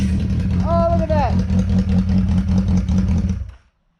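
A Yamaha XJ550 motorcycle engine idling with a loud, steady, throaty rumble under excited voices, then cutting off abruptly near the end.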